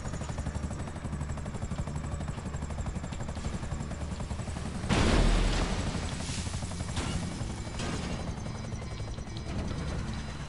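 Steady rotor chop and engine drone from a helicopter in GTA V, continuous and close, with a sudden loud crash or impact midway before the whirring carries on.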